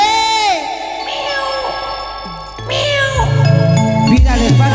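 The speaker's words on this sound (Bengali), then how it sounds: "বিড়ালের বাচ্চা" Kitten meowing in a Bengali comedy skit set amid a fair, several short rising mews, close and loud, with faint crowd bustle behind them.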